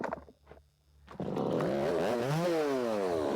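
Chainsaw idling and then revving hard as it bites into a crooked, partly hollow log to cut the bottom off, rising and falling engine pitch, loud and close, steady after the first second.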